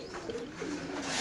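Pigeons in cages at a market coo in a short, close, low rolling murmur, fairly soft and steady.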